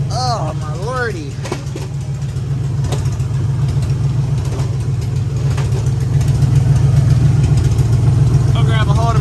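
Demolition derby car engine warming up at idle, a steady throbbing low rumble that grows slightly louder, with brief talking over it at the start and end.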